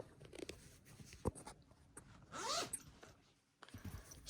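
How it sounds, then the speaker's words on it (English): A zipper on the exterior pocket of a pre-owned Vera Bradley bag rasps open in one quick, close pull, set among softer handling rustles and taps on a quiet background. "One exterior pocket. It zips open."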